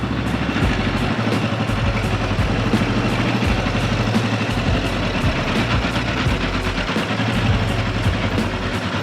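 A 1988 Yamaha Tenere XT600 being ridden, its single-cylinder engine droning steadily and loudly close by, with rushing wind noise throughout and no talking.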